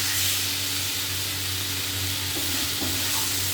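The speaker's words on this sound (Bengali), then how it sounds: "মশলাটা কষা হয়েই গেছে।" Steady loud sizzle of spice paste frying in a hot pan, close and continuous with a faint stirring scrape near the end.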